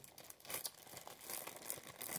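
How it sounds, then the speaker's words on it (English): Plastic packaging crinkles and tears in quick, close rustles as a container of blue sparkly slime is opened, with no talking. "First, we're gonna open the slime."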